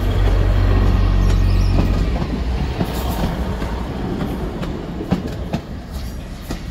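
A Great Western Railway train bound for St Ives rolls past a level crossing, its engine a loud rumble at first, settling into steady wheel noise with scattered clicks and clunks.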